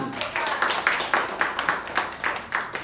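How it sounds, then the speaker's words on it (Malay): An audience claps in short, rhythmic bursts at a health talk for senior citizens, each round of applause fairly close and moderately loud, with a brief pause between bursts and no voices over it. "tepukan"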